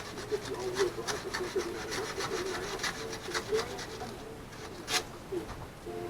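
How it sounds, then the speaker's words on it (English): Hand sanding a coating off a wooden surface, a run of rhythmic scratchy back-and-forth rasping strokes at close range, with a brief sharper scrape near the end. "I'm sanding off a little bit of the coating here"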